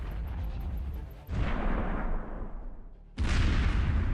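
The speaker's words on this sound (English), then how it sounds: "Artillery starts destroying buildings. A series of powerful explosions rock the area." A series of heavy, booming artillery blasts, each followed by a long rumbling roll, one after another at a distance.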